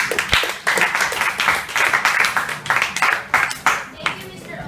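Audience applause breaks out after a speaker finishes at a workplace diversity training program, a dense steady wash of many hands clapping close by, with voices and cheers mixed in throughout.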